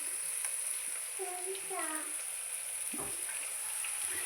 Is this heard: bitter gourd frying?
yes